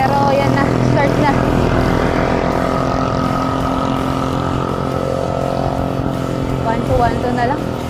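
Motorcycles drone past on a road during a reversed Sierra loop bike ride via Sampaloc, a loud, steady engine roar that persists throughout with a voice speaking over it.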